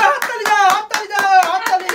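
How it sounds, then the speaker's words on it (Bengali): A run of about eight sharp, bright hand claps in quick, slightly uneven rhythm, close and loud, with faint voices around them during a children's number-guessing game. "হাততালি"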